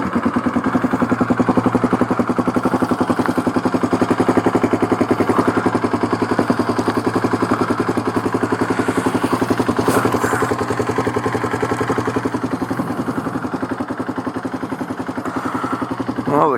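A Kawasaki KLX 351 motorcycle with a big bore kit, running steadily during break-in, a close, loud, even engine drone that holds its note with a slight dip late on.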